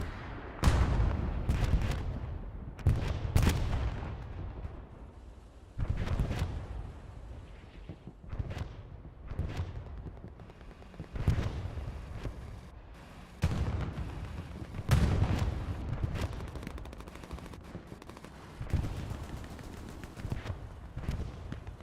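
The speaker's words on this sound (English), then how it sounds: "Artillery strikes coming over here to the rears." Artillery strikes exploding in the video game Hell Let Loose on the Carentan map, a string of heavy booming blasts at irregular intervals, some near and sharp, others duller, over a constant low battlefield rumble.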